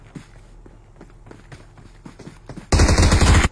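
A shooting video game starts with a patter of quick footsteps, then a loud, dense burst of rapid automatic gunfire lasts nearly a second at the end.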